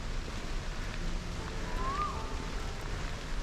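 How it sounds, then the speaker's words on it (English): Steady, soft hiss of rain falling on a day hike at Coney Island, Singapore, a continuous patter with a brief faint tone in the middle and no talking. "But it's raining"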